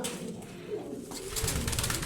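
Mardin tumbler pigeons, a male and a female, coo softly in a loft, low throaty calls repeating close by with a brief louder stretch near the end and no talking.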